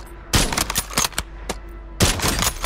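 In the video game Warzone, bursts of automatic gunfire fire through walls. Two loud clusters of rapid shots come with single cracks between them, all close and sharp.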